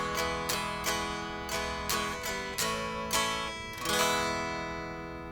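An acoustic guitar strums the outro of a song, evenly spaced chord strokes that gradually spread farther apart as the tempo slows, ending on a final ringing chord that sustains and fades.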